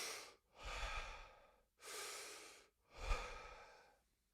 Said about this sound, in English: full deep diaphragmatic breaths in and out of the mouth continuously with no gaps